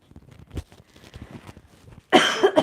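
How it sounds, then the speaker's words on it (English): A single close, loud cough from a woman on a live stream, preceded by soft rustling and breathy movement noise. "Try not to cough in y'all's ear."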